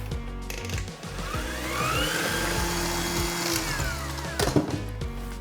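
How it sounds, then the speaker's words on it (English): An electric mixer whirs while eggs are beaten into banana bread batter, a steady droning hum with a rattling edge that runs throughout and grows slightly louder near the end. "And now we're going to give that another mix."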